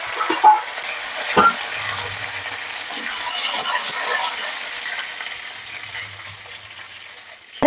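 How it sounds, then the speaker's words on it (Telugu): Dried red chillies and curry leaves sizzle in hot oil in a pan for a gongura chutney tempering, a steady close crackle with occasional spoon clinks against the pan. "ఇవి కొంచెం వేగనివ్వాలి, ఇలా వేగనివ్వాలి"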